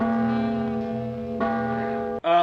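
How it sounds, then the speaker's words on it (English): Church bell tolling in the Adventures of Batman video game, a steady resonant ringing with a long sustained tone, struck again partway through and then a brief cut to a different chime at the end, no voices. "He's using it to keep the bell moving."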